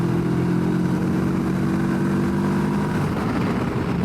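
A CFMoto 700MT motorcycle pulls hard in sixth gear, its engine droning in a loud, steady growl that rises slightly in pitch toward the end, mixed with wind rush, heard from the rider's position.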